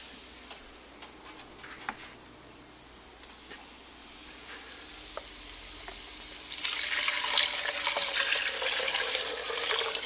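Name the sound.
pouring chicken stock into a pot of red beans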